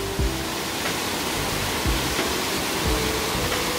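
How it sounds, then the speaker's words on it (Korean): Constant broadband rush of the Huibang waterfall, a 28 m high mountain cascade, filling the whole stretch as a dense, even roar heard close by with no voices. "희방폭포에 지금 도착을 했고요"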